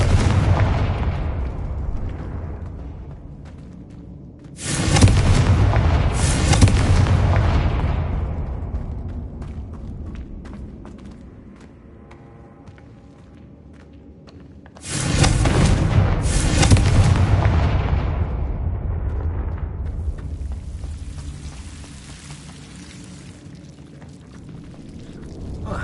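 Two Confringo spell explosions in Hogwarts Legacy, each a loud booming blast with crackling debris that rolls into a long fading rumble, the second arriving about ten seconds after the first.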